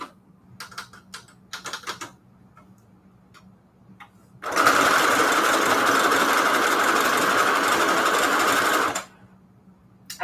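A sewing machine does straight stitching in one sustained run of about four seconds, loud and close, preceded by a few light clicks and handling taps, then quiet again.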